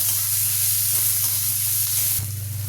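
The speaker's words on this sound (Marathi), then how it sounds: "त्यानंतर यामध्ये चिरलेला कांदा चांगला परतून घ्यायचा।" Chopped onion sautés in hot oil for a Marathi garlic rava upma, a loud continuous sizzle with a slight shift near the end, and no talking.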